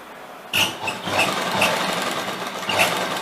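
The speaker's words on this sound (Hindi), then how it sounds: "अब हमें इस तरह से यहाँ पे सिलाई लेनी है" An electric sewing machine stitching a kurti starts up after a quiet moment and runs in a steady, close, buzzing whir, with faint rhythmic ticks of the needle mechanism.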